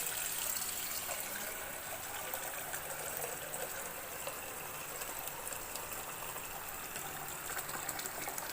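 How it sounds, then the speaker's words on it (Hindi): Tap water filling a pot in a home kitchen for boiling eggs, a continuous soft gushing stream that stays steady and fairly quiet throughout, with no speech. "पानी मैंने भर लिया है"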